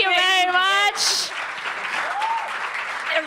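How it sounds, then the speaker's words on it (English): Audience applause after a startup pitch at a Startup Weekend final in Stuttgart, clapping that swells after a sung or voiced tone at the start, mixed with a host's voice and crowd chatter. "Come on, guys, give her an extra applause"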